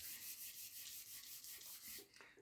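Dry sanding across a guitar body's finish to level it, a quiet rhythmic rasping of repeated back-and-forth strokes that stops near the end, with no voices.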